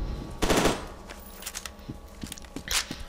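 Gunfire in the shooter F.E.A.R. 2: Project Origin cracks out in loud automatic bursts, followed by several sharper scattered shots and clanks, close and with no voices.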